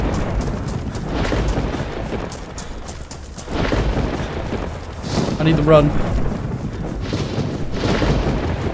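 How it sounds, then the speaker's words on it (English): EMP storm thunder in the DayZ video game, several deep rumbling booms rolling in at intervals with a brief crackling burst midway, while a voice speaks briefly over it. "I think the storm's coming in."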